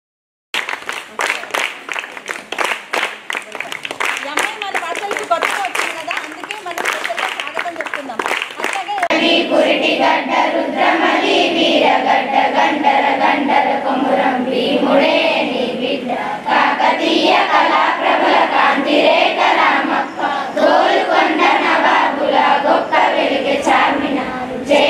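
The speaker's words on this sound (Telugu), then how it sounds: "చప్పట్లు గట్టిగా మరి పిల్లలకు ఘన స్వాగతం ఉండాలి" A crowd of teachers, parents and pupils claps and cheers to welcome children at a school event, first as sharp rhythmic clapping, then as dense, sustained applause with mixed voices.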